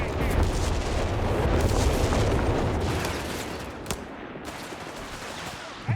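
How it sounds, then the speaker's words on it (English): A rapid artillery barrage in Company of Heroes 3 pounds away as overlapping booms and gunfire, loud at first and then easing, with a few sharper single blasts near the end. "sneaks out the back here with another rapid artillery barrage"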